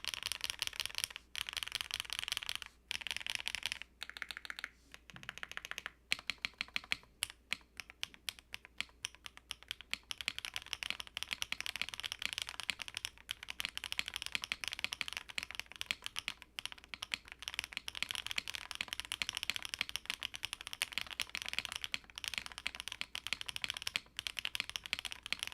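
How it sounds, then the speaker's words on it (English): Typing on a mechanical keyboard fitted with Keytalk Turn to 90s smile-profile keycaps: a steady, close run of rapid keystroke clacks with brief pauses, continuing alone without talk throughout. "Turn to 90s keycap set. Which I'll leave you guys a sound test."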